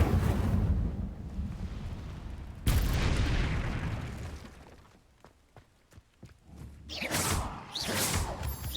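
Incendio fire spell blasts in Hogwarts Legacy: two loud whooshing, roaring bursts of flame with crackling tails, a quieter stretch of sharp clicks and pops, then a third fiery rush near the end, with no talking.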